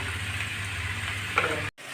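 Taro leaves cook in a pan with fried garlic, dried chilli, onion and five-spice, giving a steady moderate sizzle with a brief stir scrape before a sudden cut near the end.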